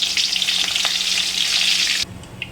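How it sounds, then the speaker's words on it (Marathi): Green chilies fry in hot oil for crispy poha chivda, making a loud, steady, close sizzle that cuts off abruptly near the end, leaving a few faint crackles. "तर आता आपण जी मिरची घेतली होती ती मिरची आपण तळून घेऊया"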